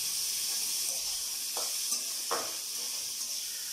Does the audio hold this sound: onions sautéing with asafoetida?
yes